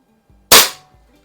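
A single sharp, loud crack from a Crosman 600 air pistol firing a pellet, close by, with a quick decaying tail and faint mechanical clicks just before.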